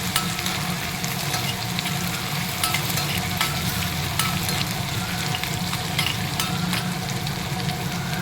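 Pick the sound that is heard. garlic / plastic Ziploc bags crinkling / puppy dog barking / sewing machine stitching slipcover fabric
garlic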